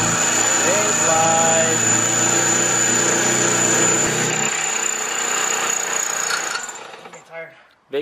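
A loud, whining power drill with a 9/16 bit bores through metal steadily for several seconds, close by, then winds down and stops, leaving near silence before a final click.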